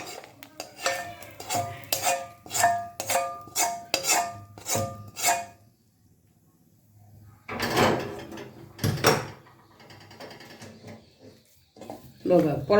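Ghee-roasted cashews are tipped into a pot of Thiruvathirai kali as a metal spoon raps the rim in a quick rhythmic series of bright clinks, then scrapes and knocks follow after a pause, with voices nearby.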